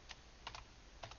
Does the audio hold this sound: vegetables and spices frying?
no